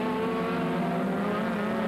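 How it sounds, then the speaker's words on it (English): A touring race car's engine in a 2001 BTCC round at Knockhill revs hard and steadily as the driver works down through the gears at the hairpin, a loud, sustained, buzzing engine note. "Plenty of revs down there as he works down through the gears, through the hairpin, chasing Bennett up the hill."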